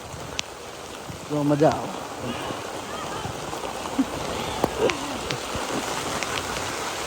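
Heavy rain pours down in Patan, with water running along the road, making a steady, dense hiss throughout. People talk over it briefly near the start and middle.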